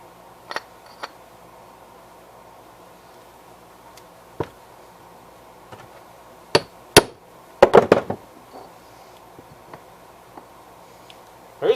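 Hammer strikes on an old, junked Gravely 50-inch mower deck spindle, a few scattered metallic blows followed by a quick cluster of sharp hits, close and loud over a quiet room.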